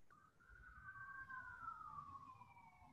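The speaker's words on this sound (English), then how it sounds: "You can hear the sirens in my background" A siren wails in a slow falling sweep at moderate distance, rising then gliding down, with low traffic rumble underneath.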